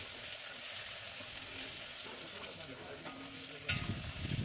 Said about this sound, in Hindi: तो मैं ऑनियन और ग्रीन चिली भी ऐड कर दूँगी और इसे थोड़ा हल्का लाल होने तक भून लूँगी।